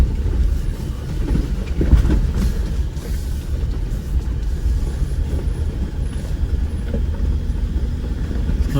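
A Jeep Wrangler 4xe crawling along a rough old mountain trail toward the pines, a steady loud low rumble with rattling and creaks of the vehicle, heard from inside, no talk.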